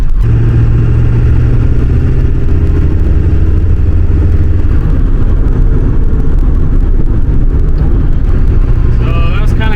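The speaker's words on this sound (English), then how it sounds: "coming up a little small hill in fifth gear. Just kind of rolling into the throttle from about 1500 RPM to 2000" A Ford 7.3 Powerstroke diesel truck with a KC300X turbo and 160/30 injectors pulls steadily up a small hill in fifth gear, its loud, deep engine drone rising gently as the throttle rolls in, constant and close throughout.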